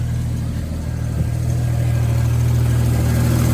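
A 1981 Jeep Scrambler's 4.2-litre six-cylinder engine with fuel injection idles steadily and loudly up close, a constant low rumble with a slight rise in revs partway through.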